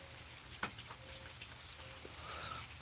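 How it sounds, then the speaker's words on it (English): Steady rain falls outside a covered porch, a soft, even hiss with a few brief drip taps, faint and with no voices. "I love having a covered porch, because I can just sit out here and watch it rain"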